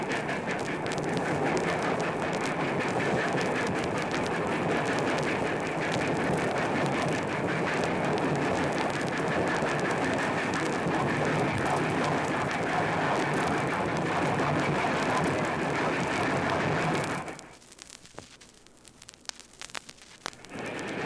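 A loud, continuous rumble of a 12-car Maine Central Railroad passenger train rolling along the rails dominates, then cuts off abruptly, leaving faint scattered noises.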